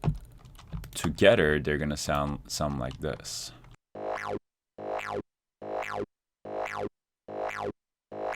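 Layered Serum synth grid sounds for psytrance, one sweeping down while the other sweeps up, play as six evenly spaced pulsing bursts with short gaps between them, following a brief spoken lead-in.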